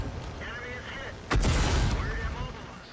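A single heavy tank cannon shot from a Ram II in World of Tanks booms out mid-clip over a steady engine rumble, with a voice talking throughout.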